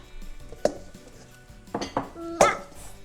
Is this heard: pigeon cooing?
no